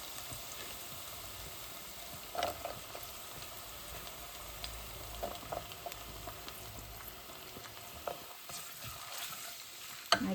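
Garlic frying with five-spice in hot oil, sizzling steadily with occasional stirring scrapes, close and fairly quiet throughout.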